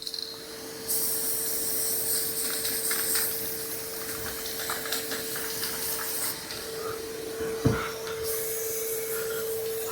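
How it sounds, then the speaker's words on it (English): A vacuum cleaner sucks flying yellow jackets out of the air, running as a loud, steady whine with a sustained tone. Rubbing and scraping noises and a brief thump come near the end. "I'm still sucking them up in the air as they're flying around."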